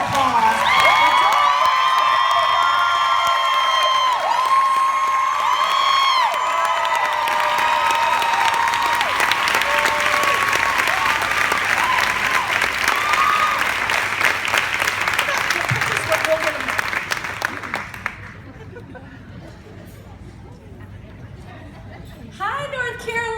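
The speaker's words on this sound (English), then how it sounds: "Let's hear a thunderous applause." An audience in a large hall bursts into sustained applause with cheering and whoops, loud and dense for most of the stretch before fading to scattered claps and murmurs.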